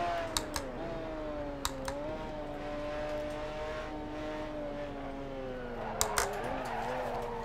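A McLaren F1 GTR in Assetto Corsa at Suzuka, its engine droning steadily with the pitch rising and falling through gear changes, while a few sharp clicks, like keyboard taps, stand out above it.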